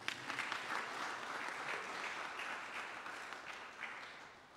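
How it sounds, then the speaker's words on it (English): A church congregation applauds steadily for several seconds, a dense wash of clapping heard from a distance that slowly fades. "Oh, clap for yourself."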